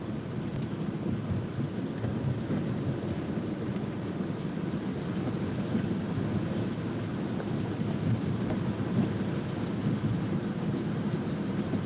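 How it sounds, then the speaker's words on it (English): Steady rain falling all day, a constant dense wash of noise with no breaks, even and moderately loud throughout. "Just constant rain."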